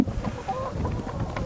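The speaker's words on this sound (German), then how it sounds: "Diese Hühner sind jetzt fast ein Jahr alt." Hens nearly a year old cluck close by in a rural farmyard in the Altes Land, with short repeated clucks over a soft background.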